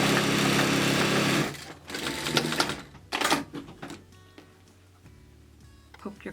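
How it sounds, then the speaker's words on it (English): A sewing machine stitches the open end of a laundry scrub bag closed, running steadily at first, then breaking into short stop-start bursts of needle clatter before trailing off into quiet mechanical clicks. "Now, take your open end, stitch it closed,"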